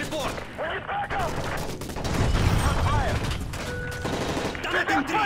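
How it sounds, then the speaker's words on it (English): Rapid bursts of video game gunfire crackle continuously beneath urgent shouting voices during a plane hijacking scene, dense and chaotic, with mechanical clatter mixed in. "That's gunfire! Hijackers are taking the plane!"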